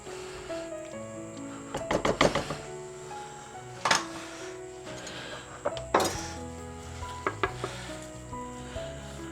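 Cabbage tipped into a pot of vegetables stewing for a creamy chicken ragout, giving a few clattering stirs and clinks over a steady low simmering sizzle, with no voices.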